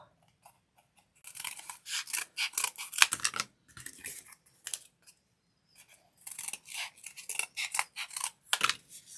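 Scissors snip through craft paper scraps being cut into pieces for big paper flowers, making crisp close-up cutting bursts in two main runs separated by short pauses, with no talking.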